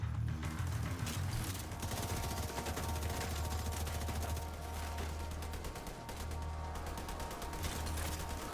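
Police M4 rifle fire in the video game The Division 2: dense, continuous rapid gunfire with mechanical clatter, loud and sustained throughout with no talking.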